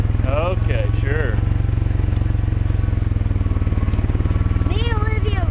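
An ATV four-wheeler engine drones steadily and loud on a family ride, a constant close rumble throughout, with people talking and calling out over it.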